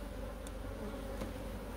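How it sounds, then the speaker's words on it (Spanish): A dense, steady buzzing of many honeybees on a hive frame, close and continuous, filling the space without pauses or voices. "este siguiente también está lleno de abeja."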